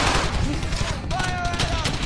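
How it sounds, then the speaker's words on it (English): Gunfire effects in a LEGO World War II animation, a dense, loud clatter of rapid shots with bursts like a machine gun, mixed with shouting voices. "Don't stop firing!"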